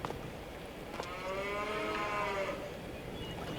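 Cattle mooing in Farming Simulator 22, a sustained low bovine call with wavering harmonic bands lasting around a second and a half, heard over a steady background of game ambience.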